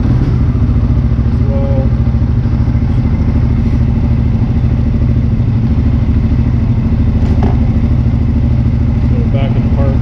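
A 2021 CFMOTO CFORCE 600 ATV engine runs steadily in low gear, a loud continuous low rumble with a regular throbbing pulse, while a person talks over it.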